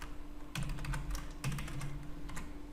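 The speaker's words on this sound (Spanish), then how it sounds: "lo tipeo y luego le hago clic a la fecha" Typing on a computer keyboard at a desk, with soft clustered keystrokes in short uneven bursts over a steady low hum, close and moderately quiet with no talk.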